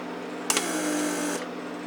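A Mercedes door lock vacuum pump runs alone for about a second, a steady electric whir and hum that starts abruptly with a click and stops cleanly over a constant background hum.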